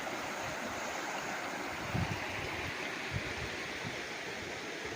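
A river running along the boundary of a farm lot in Cavinti, Laguna gives a steady, broad rush of flowing water, with a couple of low thumps near the middle and no talking.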